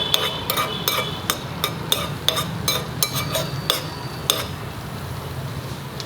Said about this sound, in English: Come on, we shall heat the dry fruits. Put in the cashew,